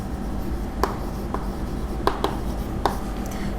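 A pen moves by hand across paper while a journal entry is written out, giving faint, continuous scratching with several sharper taps and strokes spaced irregularly, close and soft over low background hum, with no talk.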